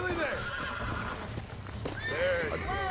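A horse in the video game Red Dead Redemption whinnies twice, with hooves clip-clopping underneath. The neighs are clear and moderately loud, and someone talks over part of it.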